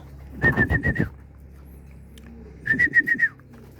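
A racing pigeon hen coos in two short bursts of quick, pulsing, throaty calls, each about a second long, separated by a quiet pause and heard close by with no talking.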